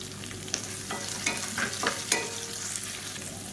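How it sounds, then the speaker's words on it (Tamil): Continuous sizzling of long-sliced onions frying in a pan, with occasional scraping strokes of a spoon stirring them. "இப்போ பாருங்கள் வெங்காயம் ஓரளவுக்கு நல்லா வதங்கிடுச்சு"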